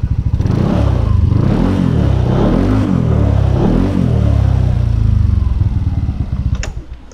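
A Yamaha NMAX Turbo scooter with a ProSpeed racing exhaust revs repeatedly, loud and close, its deep rumble swelling and falling several times before settling at the end.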